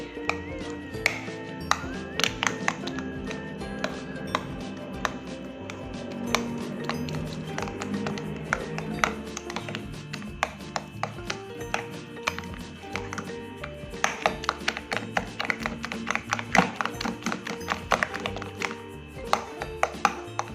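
A spatula scraping and tapping a pan as tofu spring roll filling with egg is stirred, a steady busy clatter of quick metallic ticks and clinks over a continuous sizzle, close and alone without talk.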